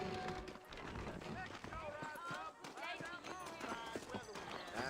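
Horse hooves clip-clopping at a trot in the Red Dead Redemption video game, a steady rhythmic beat under continuous talking and game dialogue.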